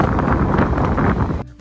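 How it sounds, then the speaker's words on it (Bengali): Strong, stormy wind buffets the microphone in a steady, loud roar with gusty rumbling that runs almost unbroken and then drops off abruptly near the end. "বাতাসের শব্দ শুনে আপনারা কিছুটা হলেও তো ধারণা করতে পারলেন যে আজকে কেমন জোরে বাতাস হচ্ছে, অনেকটা ঝড়ের মতো।"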